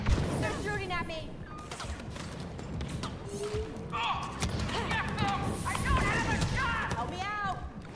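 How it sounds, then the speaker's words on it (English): Rapid blaster fire from Star Wars Battlefront II, bursts of zapping shots and impacts crackling through a busy battle, with voices talking over the steady combat din. "Return fire! They're shooting at me!"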